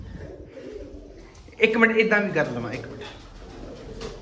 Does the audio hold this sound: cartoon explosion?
no